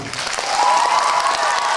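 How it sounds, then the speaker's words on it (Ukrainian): A studio audience at a Ukrainian children's music show applauds a young girl after she sings a carol, loud dense clapping with a brief sustained tone ringing through the middle. "Ваші оплески."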